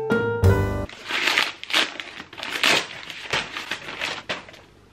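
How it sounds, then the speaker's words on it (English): Paper wrapping crinkled and torn off a wrapped book, close and crisp in several rustling bursts after a brief tonal sound at the start. "let's just unwrap this"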